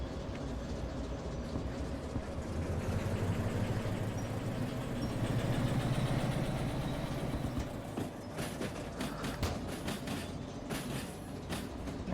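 A locomotive engine idles in the train simulation game Derail Valley, a steady low rumble with a metallic rattle, joined near the end by a series of sharp clicking taps.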